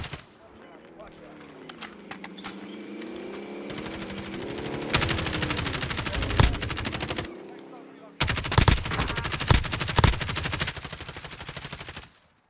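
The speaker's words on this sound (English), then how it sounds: "We got shots coming from the left too" Rapid gunfire in Warzone, coming from the left: dense volleys of sharp shots in two loud stretches with a short lull between them, over game sounds and talking players.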